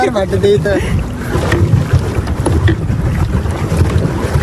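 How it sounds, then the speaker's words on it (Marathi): A pedal boat at a boating club in Pune moves across water, with churning splashes and wind noise close to the microphone while people talk loudly on board. "हे बघा मी फुल पायंडल मारतो"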